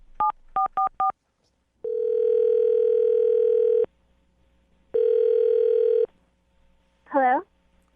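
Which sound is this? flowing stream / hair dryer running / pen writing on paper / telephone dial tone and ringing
telephone dial tone and ringing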